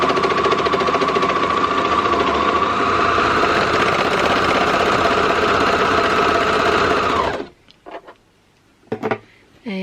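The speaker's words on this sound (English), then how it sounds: "So I'm going to serge off the edge and leave myself a nice long tail." Serger overlock machine sewing off the edge of a garment, a loud, fast, steady mechanical whir running continuously for several seconds, then stopping abruptly, followed by a few brief handling clicks and rustles.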